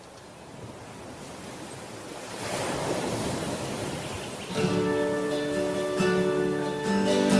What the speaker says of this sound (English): the orchestration starts with the ocean in the background